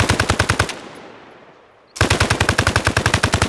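Automatic gunfire from a new gun in the video game Arma Reforger: two loud, rapid bursts of evenly spaced shots, split by a short fading pause, with no voices.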